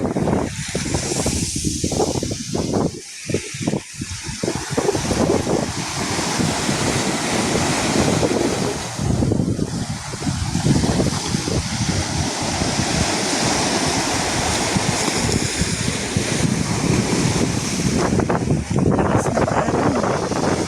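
Ocean surf rolls in at high tide on Siruma Beach in Bicol on a rainy night, a loud, continuous roar of breaking waves mixed with heavy wind buffeting the microphone.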